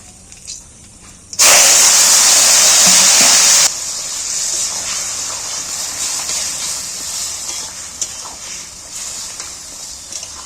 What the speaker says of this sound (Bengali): এবার তরকারিটা এর মধ্যে ঢেলে দিচ্ছি